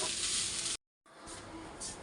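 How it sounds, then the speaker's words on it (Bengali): Food sizzling steadily in a hot pan during home cooking, a broad hissing fry that cuts out briefly and resumes, close and moderately loud with no talking. "এটা এখন খুব ভালোভাবে ভেজে নিই"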